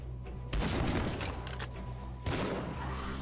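Rapid automatic fire from a Tommy gun in the action video game Tesla Vs Lovecraft, a dense, continuous rattle of booming shots in two sustained bursts with no talk.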